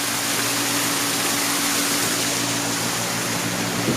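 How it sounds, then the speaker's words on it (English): Steady, loud broadband roar of a waterfall beside a lake where ducks and other birds gather, a constant wash of falling water close by with a low engine-like hum underneath. "it's really loud because of the waterfall"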